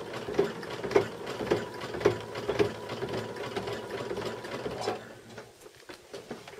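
A sewing machine stitching a final circle of appliqué, slow rhythmic mechanical clicks and ratcheting thumps at roughly half-second intervals for about five seconds, then fading to quiet handling noises; close, no talking.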